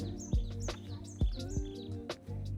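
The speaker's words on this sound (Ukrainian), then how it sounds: "Пташки співають." Birds sing nearby in bright, repeated chirps and warbling notes, several calls overlapping above a low steady hum, in a quiet hilltop town on Tenerife.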